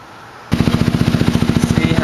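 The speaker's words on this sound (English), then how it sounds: "You got his four-wheeler running again. Sorry for the loud noise." A four-wheeler ATV engine fires up about half a second in and settles into a loud, close, rapid, evenly pulsing idle that carries on steadily to the end.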